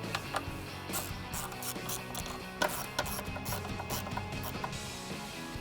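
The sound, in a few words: tightening bolts with 1/4 inch drive ratchet and 8mm socket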